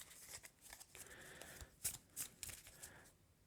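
Cards are shuffled back into the encounter deck in a Marvel Champions tabletop card game, heard as soft, faint rustling and quick papery flicks with small sharp ticks, close by and quiet.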